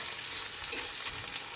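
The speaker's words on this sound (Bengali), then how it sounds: "এর আমি পেঁয়াজ, কাঁচা লঙ্কা চিরাটা একসঙ্গে লেড়ে দেবো।" Chopped onion and slit green chilies hiss faintly in hot oil, a quiet continuous sizzle with a single soft stir of the spoon partway through.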